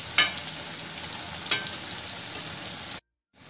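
Suji snacks fry in hot oil with a steady, even sizzle and a couple of sharp crackles as pieces are turned, then the sound cuts to silence near the end.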